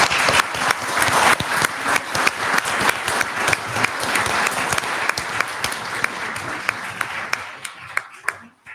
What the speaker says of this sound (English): May we give a round of applause to this?